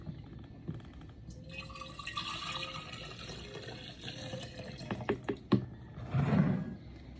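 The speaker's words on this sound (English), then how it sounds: "Pour the leftovers in this." Freshly made carambola (star fruit) juice is poured from one vessel into a container. A faint, trickling splash gives way to a few louder glugs and drips near the end.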